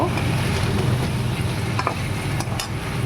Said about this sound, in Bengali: আর এই বড়ি দিয়েও একটু নাড়াচাড়া করব।